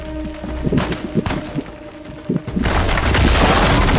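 Gunfire and explosions in the video game Uncharted 4: scattered thuds and shots over a low hum, then a loud, dense barrage of blasts that rolls on without pause for the final seconds.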